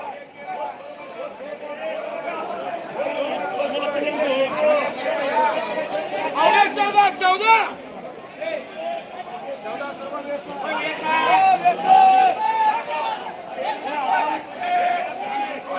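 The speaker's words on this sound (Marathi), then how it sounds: "गर्दी भरपूर आहे" Dense crowd chatter at the Solapur onion market, a steady babble of many voices with louder bursts of nearby talk rising and falling throughout.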